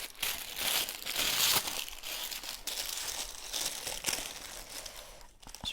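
Paper wrapper around a moisturising massage bar crinkles and crackles almost continuously for several seconds, close to the microphone, with bursts of sharper crumpling and no speech.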